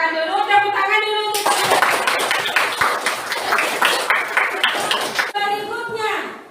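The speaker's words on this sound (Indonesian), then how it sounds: "Silakan dulu, tepuk tangan dulu" Students in a classroom clapping together in a brief burst of dense, fast applause lasting about four seconds, with a voice speaking just before and after.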